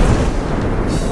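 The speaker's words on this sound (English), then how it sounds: "Oh, it's throwing bombs!" A deep, sustained roaring blast from a bomb going off in the video game Content Warning, loud and rumbling with dense low-end energy throughout.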